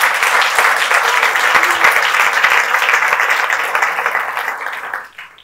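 Loud, dense applause from a church congregation, sustained and even for about five seconds before tapering off abruptly at the end.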